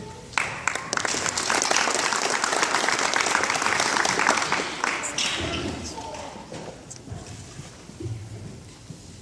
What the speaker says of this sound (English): Let's give a big hand to our club sponsors